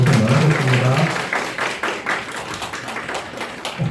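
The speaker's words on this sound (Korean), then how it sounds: "큰 박수와 함께 마무리하도록 하겠습니다" A room of participants gives loud, sustained applause to close the first-week orientation session of a 2022 Korean social entrepreneur training program, with a voice briefly heard at the start.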